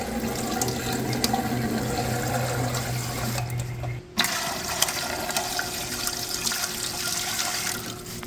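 Tap water pours into a canner for chicken stock, a steady splashing rush that changes tone about halfway through as the fill continues.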